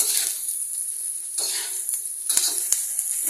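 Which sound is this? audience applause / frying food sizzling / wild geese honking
frying food sizzling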